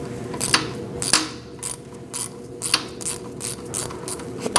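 A ratchet clicks in quick bursts while snugging up the wheel hub assembly bolts on a 2000-2006 Mini Cooper during a front wheel bearing replacement, the sharp pawl clatter close and loud and separated by short pauses, with no talking.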